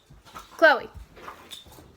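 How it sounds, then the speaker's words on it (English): Pet dogs in a home give a sharp bark followed by short whines and whimpers, fairly close, amid brief human speech. "Sorry, my dogs are going crazy."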